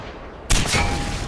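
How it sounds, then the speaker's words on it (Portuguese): Bazooka fired in the video game Far Cry 4, one sudden loud blast that cuts in and leaves a rushing, rumbling tail. "o maluco tá dando tiro de bazuca ali"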